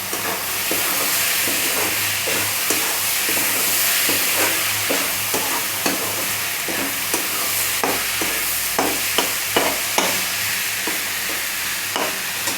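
Chopped tomatoes get stirred into chicken chutney frying with onion in a pan: a loud, constant sizzle and hiss with regular spoon scrapes and taps throughout, no talking.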